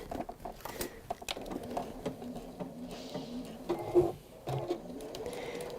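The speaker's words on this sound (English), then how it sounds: "I will just go back over my stitches there" A sewing machine stitching fabric while reversing over stitches, with a quiet mechanical whirring and ticking in short uneven runs, fairly faint.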